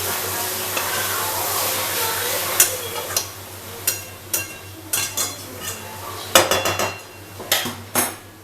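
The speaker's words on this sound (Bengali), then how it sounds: "এটাকে আমি এই ফোড়নটার সাথেই ভালো করে মিশিয়ে নেব।" A spoon stirs papaya into a spice tempering in a hot pan, with a steady sizzle beneath repeated clinks and scrapes of metal on the pan, sparse at first then coming in quick clustered bursts, close and fairly loud.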